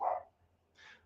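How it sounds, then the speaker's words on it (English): A dog barks indoors during a football preview broadcast, giving one low, loud bark at the start followed by a fainter, higher yip near the end, with a steady low hum beneath. "I don't know if you can hear her, but she's barking now."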